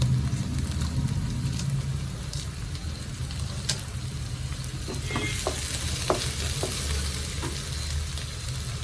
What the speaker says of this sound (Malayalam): സവാള മതിയാവും നന്നായിട്ടൊന്ന് വഴറ്റിയെടുക്കാം